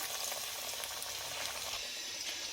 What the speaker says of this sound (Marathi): याला छान ब्रेड क्रम्स लावून घ्यायचं आणि डीप फ्राय करायचं।